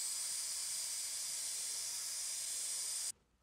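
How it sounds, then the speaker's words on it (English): Silver paint hisses from a spray gun in a test spray for alloy wheel scratch repair, one continuous bright hiss lasting about three seconds before cutting off abruptly into quiet. "just doing a few test sprays just to make sure it's not coming out too fast"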